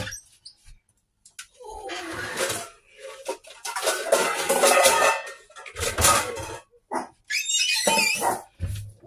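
A dog barks in short bursts at another dog walking past, heard indoors in a home kitchen during supper preparation, with a few quieter gaps between the louder volleys.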